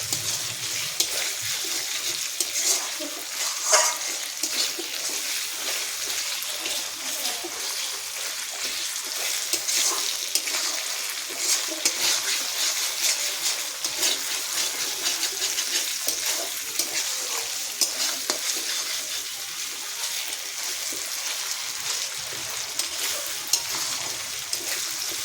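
Chicken meat frying in a thick spice paste for chicken pata, a steady bright sizzle with stirring scrapes running close and loud the whole time, no voices.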